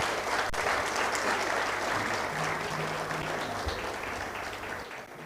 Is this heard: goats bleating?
no